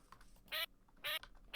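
Two short, loud quacks from a duck mob in Minecraft, played in the FTB One modpack, separated by about half a second of quiet game ambience.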